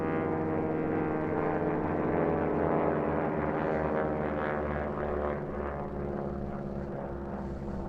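T-6 racing aircraft fly the course at the Reno Air Races, a continuous propeller-engine drone heard from a distance, with a steady, slightly throbbing roar that fades gently toward the end.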